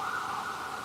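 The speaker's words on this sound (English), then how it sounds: "may listen to it later on and you hear all these sirens and so forth" Emergency vehicle sirens wail steadily and fairly distant across the Boston city area, a continuous faint whine under traffic hum with no talk.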